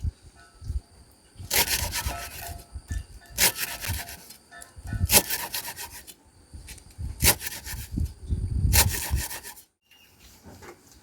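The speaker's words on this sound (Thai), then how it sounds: "จะหั่นตะไคร้ก่อนนะ" A knife saws through lemongrass in rough, rasping strokes, several bursts in a loose rhythm, close and fairly loud, no talking.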